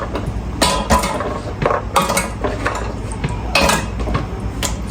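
Fresh tamarind is dropped into a casserole pot while cooking sinigang, with repeated metallic clinks and clatters against a steady low background hum, close up.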